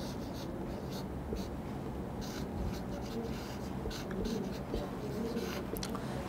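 Steady scratchy writing on a board during a physics lecture on the rheostat, a continuous close scraping texture with faint intermittent taps, no voice heard over it.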